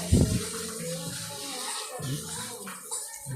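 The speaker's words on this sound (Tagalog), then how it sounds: "Sagana ang tubig dito." Cold spring water at an inland resort in Canlaon flows continuously, rushing and splashing steadily, with a brief louder splash at the start and a few faint knocks.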